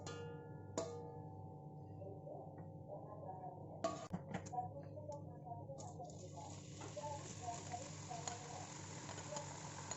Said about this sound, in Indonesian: Goreng dulu ikan asinnya